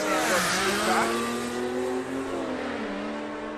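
A manual-transmission truck at a drag race on the Willowbank Raceway strip roars loudly past, its engine pitch climbing through a gear change then holding a sustained drone as it pulls away.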